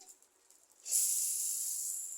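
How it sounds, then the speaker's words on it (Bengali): Fish hitting hot mustard oil in a wok bursts into a loud, steady sizzle after a quiet start, the hiss holding strong to the end. "মাছের সরিষা তেলের কড়াইটাতেই ভাজা হবে।"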